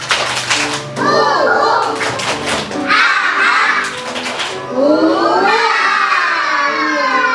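Young children in a kindergarten class clap and chant together in a sing-song call, sharp rhythmic hand claps between bursts of high voices, loud and close.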